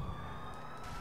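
Police car siren in the video game GTA IV, a wailing tone sweeping steadily upward, heard briefly and fairly close with no talk over it.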